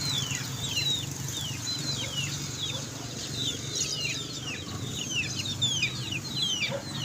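Chickens in a small backyard coop cluck and chirp repeatedly under a steady low background rumble, the calls fairly soft and scattered throughout.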